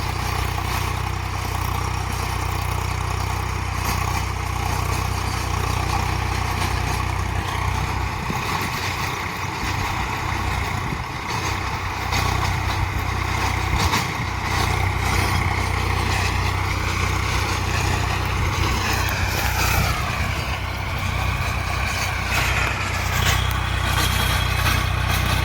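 An old Swaraj 735FE tractor with a 3-cylinder 2734 cc diesel engine rumbles continuously nearby, low and throbbing, with the revs shifting audibly about two-thirds through; no talking.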